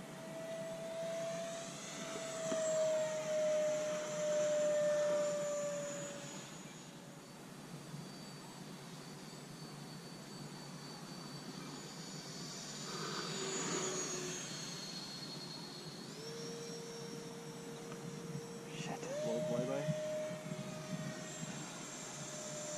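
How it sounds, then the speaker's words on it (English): A small foam-board RC trainer jet with a 50mm electric ducted fan makes a fast flyby, its thin whine rising and falling in pitch as it passes at moderate distance, with no talk. "Let's do a fast flyby here."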